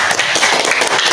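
A brief, loud burst of clapping, dense and close, lasting only about a second.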